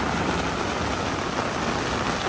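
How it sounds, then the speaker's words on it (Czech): Rain falling outdoors at a child's second birthday party, an even, dense hiss of drops holding steady throughout with no other clear sounds. "Začalo nám pršet"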